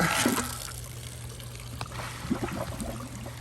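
Water bubbling and trickling out during a koi pond water change, a soft continuous gurgle with small splashy bursts, quiet and close.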